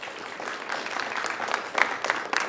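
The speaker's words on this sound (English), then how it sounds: "Let's give these students a round of applause." An audience claps for high school students at a varsity quiz competition, a modest round of applause with a few sharper claps standing out near the end, fairly even and moderately loud.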